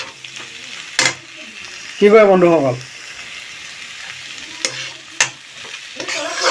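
Vegetables sizzle in a pan while being stir-fried for a bhaji. Two or three sharp scrapes and knocks of a spatula against the pan sit over a steady hiss. A voice talks briefly.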